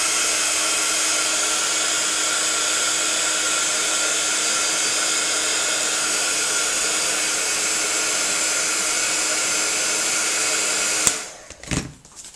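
A hair dryer blows steadily and loudly to dry a freshly coloured scrapbook page, a constant whooshing hum that runs unbroken for about eleven seconds before cutting off abruptly, followed by brief handling clatter.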